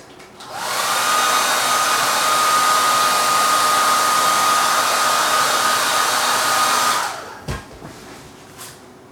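Hair dryer blowing on watercolour paint, a loud steady whoosh that runs for about six seconds and then cuts off, followed by a few small handling knocks.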